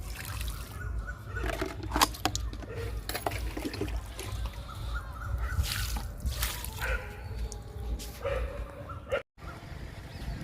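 Liquid fertilizer splashes and trickles onto potted jasmine and rose plants, irregular pouring and dripping close by over a soft outdoor background, with a brief pause near the end.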